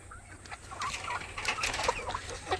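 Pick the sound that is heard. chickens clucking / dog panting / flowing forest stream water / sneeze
chickens clucking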